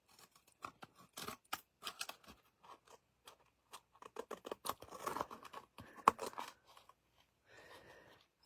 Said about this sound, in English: And I'm just going to cut off all of these pieces.